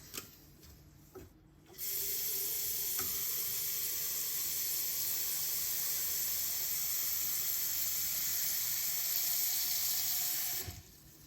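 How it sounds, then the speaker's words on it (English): Water streams into a blender of cut-up paper for papermaking, steadily with a bright hiss for several seconds, then abruptly stops; faint clicks precede the flow. "Once you've cut up your paper and put it in your blender, add some water."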